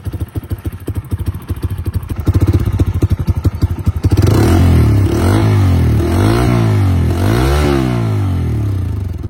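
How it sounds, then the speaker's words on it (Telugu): A Bajaj Freedom 125 CNG motorcycle with a silent starter starts up, then idles with a close, loud, steady engine putter and exhaust note, and no voices over it. "ఇప్పుడైతే నేను బైక్ ని అయితే స్టార్ట్ చేస్తాను."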